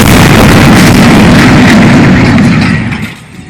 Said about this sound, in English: we heard a deafening explosion from the ruins nearby